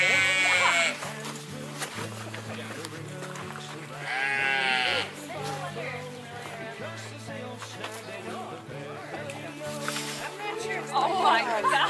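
Sheep bleat repeatedly during shearing, several loud wavering calls close by, mixed with people chatting and general barn noise.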